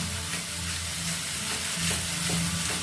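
Ground masala paste for prawn masala fries in oil, releasing a dense, continuous sizzle with faint scraping as it is stirred and cooked down.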